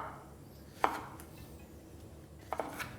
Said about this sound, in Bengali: আমি এখানে একটা টমেটোও কেটে নিচ্ছি। আর টমেটোটাকে ঠিক এইভাবে আপনাদের ছোটো ছোটো করে কেটে নিতে হবে